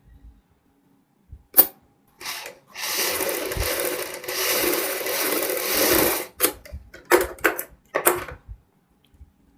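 Sewing machine stitching a kurti collar, a steady close whir running for a few seconds, framed by short handling clicks and brief bursts of stitching.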